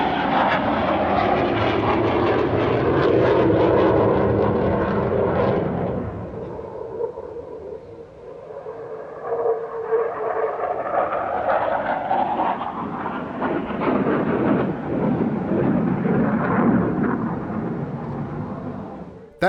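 A Royal Netherlands Air Force solo display jet based at Leeuwarden roars loudly through an airshow pass, with a heavy broadband engine rumble that eases briefly mid-clip and then builds again into a sustained jet roar.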